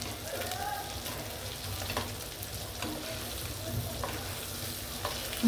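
Sorputi fish shallow-fry in a pan of oil, with oil spooned over the top: a soft, steady sizzle with faint crackles and occasional scrapes, close but quiet throughout.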